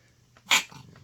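A small pet dog sneezes once indoors, a single short sharp burst close to the listener, with quiet room sound around it.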